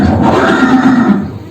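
A horse neighs loudly in a Maharana Pratap museum hall near a Chetak display, one sustained whinny that fades out over about a second and a half.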